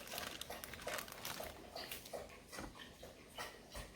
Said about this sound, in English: I hear Bruce drinking in the background.